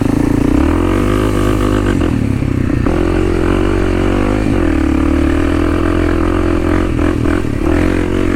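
Kawasaki KLX 300 dual-sport dirt bike engine running on the Hatfield McCoy Trails in West Virginia, a loud, steady close engine drone with shifting revs and rattling clatter throughout, no talking.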